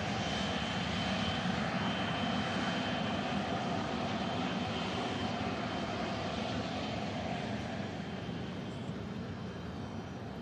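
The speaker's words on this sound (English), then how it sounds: "EasyJet box touch." An EasyJet airliner touches down, a broad continuous engine roar heard from a distance, steady and fairly loud throughout with no voices over it.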